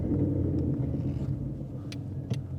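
A 2016 Ford Mustang RTR rolls on the throttle at low speed, a deep, steady engine rumble heard from inside the car, with a couple of faint clicks toward the end.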